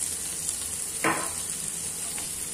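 Garlic, onion and mushroom stir-frying in sesame oil, a steady sizzle and hiss with one brief louder scrape or toss of the mix partway through.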